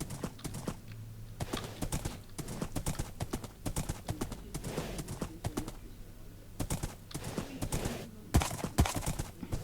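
Rhythmic clip-clop of horse hooves in Minecraft at a steady walking pace, crisp and close, with a faint ambient hum beneath.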